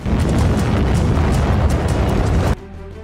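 Loud, continuous rumbling blasts from explosions in the war in Ukraine, a dense booming roar lasting over two seconds before cutting off abruptly to a quieter background.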